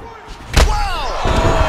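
A hard jab landing in the UFC 4 fighting video game makes a single heavy, sharp thud, followed by a commentator's voice talking over the action.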